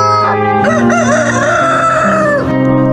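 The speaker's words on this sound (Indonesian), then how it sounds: "berkokoklah ayam." A rooster crows loudly and close by, one long drawn-out cock-a-doodle-doo that stretches across nearly three seconds with no other sound.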